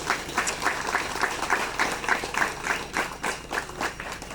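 A crowd applauds the team at a celebration, with a run of distinct, evenly spaced claps standing out over a broader sustained wash of clapping.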